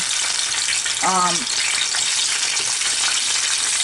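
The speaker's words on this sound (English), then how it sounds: "So we start to fry our platanos in just oil, heated oil." Plantain slices for tostones fry in a deep pot of hot oil, producing a loud, steady crackling sizzle throughout, with a short tonal squeak near the start and no speech.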